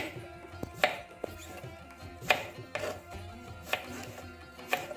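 Knife chopping through banana stem on a board, about six sharp, evenly spaced cuts, close and clear with no talk.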